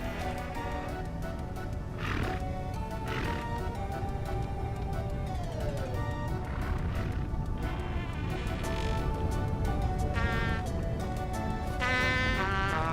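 Repeated goat bleats in the video game Vintage Story sound over a continuous game soundtrack, the calls coming in short bursts scattered across the stretch, with no voices.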